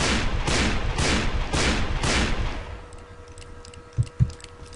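Revolver gunshots from the Western video game Call of Juarez: Bound in Blood fire in a rapid, evenly spaced burst of six loud blasts, followed by quieter mechanical clicks and two thuds as the gun reloads.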